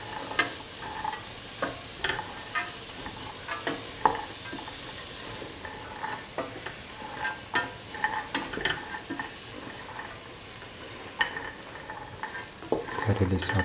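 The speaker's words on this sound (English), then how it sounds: "Mix the chickpea thoroughly with the rest of the mixture." Chickpeas being sautéed and stirred into a lemon carrot rice mixture in a pan, with a soft steady sizzle broken by repeated scraping and clinking spatula strokes, close and moderately quiet.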